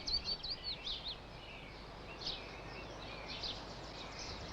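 Wild birds call at the Drakeholes nature reserve, a quick cluster of faint, high chirps at first, then a few sparse, distant tweets over quiet outdoor hiss.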